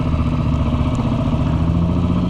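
The Janus Halcyon 250 motorcycle's engine keeps up a steady, close, thumping drone with a constant idle-like rhythm and no voices over it.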